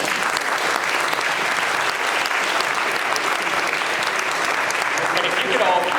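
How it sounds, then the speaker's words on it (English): An audience at a candidate forum in a church applauds, with dense, sustained clapping filling the room at a steady, loud level throughout. "So can we give them a round of applause once again?"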